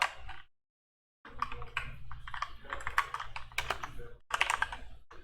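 Quick, steady typing on a computer keyboard during touch typing practice, a close run of rapid clicking keystrokes that breaks off for a moment of silence and then resumes at a brisk pace.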